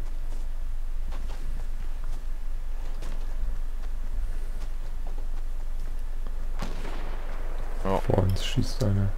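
Gunshots in the video game Fortnite crack out sporadically as sharp, scattered bangs over a constant game-ambience bed, with a flurry of louder shots near the end and players' voices talking.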